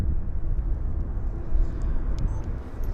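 An Air Canada airliner taking off at Vancouver Airport, heard as a steady low engine rumble and roar that holds at an even level, with faint higher hiss above it.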